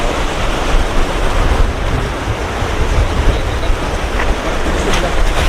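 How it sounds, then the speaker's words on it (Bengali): Large sea waves break on a quiet, deserted beach at Bakkhali, a loud continuous roar of surf mixed with gusty wind buffeting the microphone. "ঢেউগুলো দেখো, এখানে অনেকটা বড় ঢেউ।"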